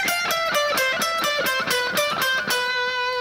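Electric guitar playing a rapid alternate-picked descending lick built from three-note sequences, each note crisply articulated in a steady fast rhythm, clean and upfront with no talking.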